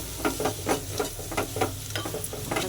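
Ginger-garlic paste frying for mutton curry, stirred with a spoon in rhythmic scrapes about every half second over a soft continuous sizzle, fairly quiet with no voices.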